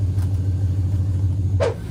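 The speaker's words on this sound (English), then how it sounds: "The exhaust leaks that I'm hearing are from where the kit fits together." A truck idles with a low, steady engine rumble after a long tube header installation, its exhaust leaking at the header joints, with a brief higher puff near the end over the continuous drone.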